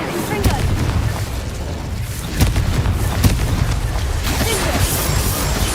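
Confringo blasting curse firing in a Harry Potter video game, a sustained rumbling boom with several sharper bursts and pops layered over continuous low roar.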